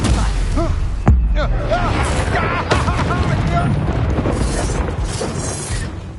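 A fire spell blast bursts out during combat in Hogwarts Legacy, a sharp boom near the one-second mark and another around 2.7 seconds, set amid constant battle noise and a voice.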